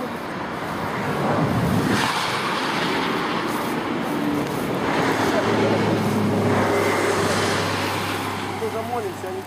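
Cars pass along a roadside in 2012, swelling and fading as broad whooshes over wind noise every few seconds, fairly close.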